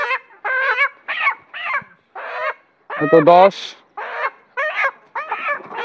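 Hens weighing about three kilograms each, being sold, squawk and cackle in a run of short, loud, close calls with brief gaps, while a man counts aloud among them.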